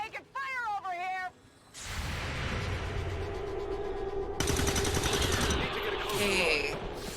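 Gunfire in the video game XCOM 2, a sustained burst of rapid close shots and rattling fire after a short robotic-sounding game voice line, continuing loudly with a whoosh near the end.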